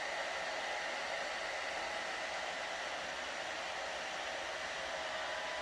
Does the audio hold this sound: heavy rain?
no